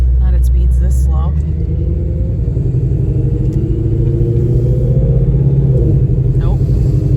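Vehicle with a 10R80 automatic transmission driving slowly in normal mode, steady engine rumble and drone from inside the cabin, with shifts changing the engine note, under conversation between occupants.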